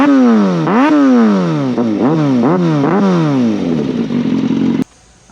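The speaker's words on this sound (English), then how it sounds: "Let me give you guys some revs." A Kawasaki Ninja ZX6R with a custom exhaust is revved hard several times. Each blip rises sharply and falls back, loud and close, before the engine settles to idle and then cuts off abruptly.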